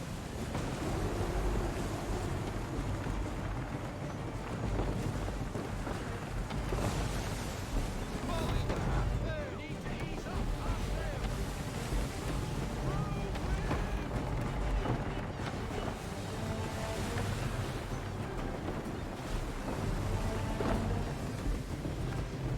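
A sailing ship in the video game Assassin's Creed III moving through wind and waves, with a steady wash of surf and rushing air, full and continuous, with faint creaks and splashes rising and falling.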